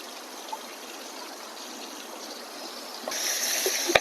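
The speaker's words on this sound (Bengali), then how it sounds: "তরকারিটা আমি লবণ হলুদ মাখায় রাখছিলাম, এখন ধুয়ে নেব।" Running water flows steadily over pieces of mrigal fish rubbed with salt and turmeric, a continuous close trickle that grows louder and splashier toward the end.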